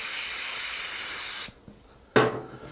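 Brake parts cleaner sprays from a can in a long, steady hiss, stops, then a second short burst follows after a brief pause with a light knock, used while cleaning a Troy-Bilt snow blower's friction wheel.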